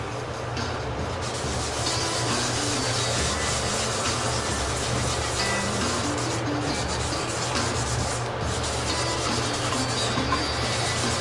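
A hand rubs leather dye into an alder guitar body, a continuous close scrubbing friction with steady rhythmic rasping strokes and no voices, holding at an even loud level throughout.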